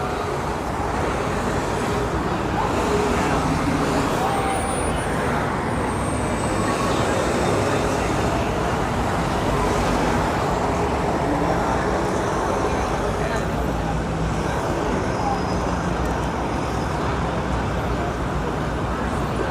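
Busy night traffic on Fifth Avenue in New York City, a constant dense roar of passing cars and buses with steady road hiss under a person talking.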